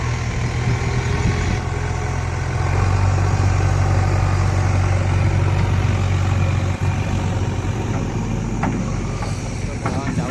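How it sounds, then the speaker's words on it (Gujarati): A tractor and a JCB backhoe idle at a Gift City construction site, a steady low engine drone that holds evenly for the whole stretch with no breaks. "જીસીબી જોડે ટ્રેક્ટર આવી ગયું"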